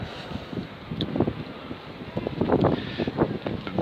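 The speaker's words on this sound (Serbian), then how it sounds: "Bilo bi prijatnije da nema vetra, ali eto, duva vetar" Wind gusts through a pedestrian street, Knez Mihajlova in Belgrade, buffeting the microphone with low, uneven rumbling bursts that swell and fade, with no talk.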